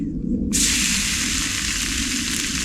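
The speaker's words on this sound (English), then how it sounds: "get the pan warm. You want to get that sizzle." Steak drops onto a hot oiled pan and a loud, steady sizzle erupts, hissing continuously after a brief quiet moment.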